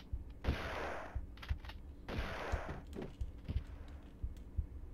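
Shotgun blasts from an enemy in the video game Tomb Raider 2 come as a few sharp, loud bursts spaced a second or so apart, with softer clicks and thumps between them and no talking.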